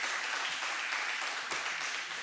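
An audience at a university campus event in Bloemfontein welcoming the new student council gives warm, continuous applause, a dense even clatter of many hands, moderately quiet and steady.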